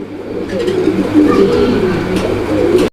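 Fancy pigeons cooing softly in low, throaty murmurs, close by and steady, with nobody talking.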